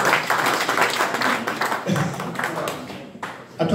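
An audience applauds a participant named Tina at a Paris campaign meeting for the 2017 legislative elections, dense broadband clapping fading slightly around the middle and swelling again at the end.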